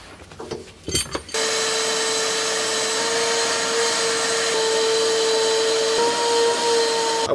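A vacuum cleaner runs steadily inside an E36 car, cleaning the interior carpets after a roll cage install; after a few knocks and handling sounds it drones loud and close for several seconds, with no talking.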